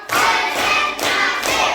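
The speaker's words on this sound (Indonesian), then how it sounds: "Tepuk 1, tepuk 2, tepuk 3, tepuk 4" A school class claps in a counted rhythm, loud bursts of many hands striking together in roughly three evenly spaced waves, close and energetic.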